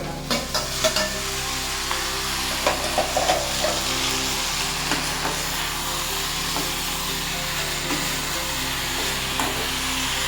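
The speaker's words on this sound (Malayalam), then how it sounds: "അപ്പോൾ നമുക്ക് ഒരു തക്കാളി ഇട്ട്" Tomato fries with small onions in a hot pan, a continuous loud sizzle close by, broken by repeated light scraping and tapping of a stirring spoon, denser early on and then evenly spaced.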